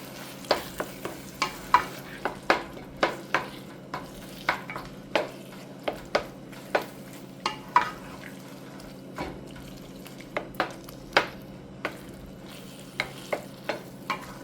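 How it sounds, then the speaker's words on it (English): A tablespoon of flour is stirred into a frying pan, a steady soft sizzle underlaid by irregular close clicks and scrapes of the utensil against the pan, with no talking. "I will now add the flour, 1 tablespoon. I am now mixing the flour in."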